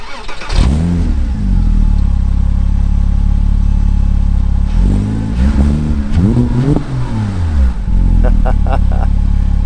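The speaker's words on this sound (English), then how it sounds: "That sounds amazing. This Fabspeed exhaust really livens up this car." A manual Porsche Cayman S 987 with a Fabspeed exhaust cranks and fires up loudly at close range, then settles into a deep steady idle, broken by a few sharp throttle blips that rise and fall.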